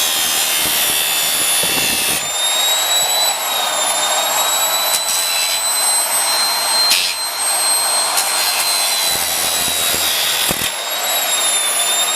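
A 9-inch Milwaukee angle grinder runs loud and steady, its high metallic whine holding throughout with a few brief dips in load, while working stainless steel for a fantasy sword.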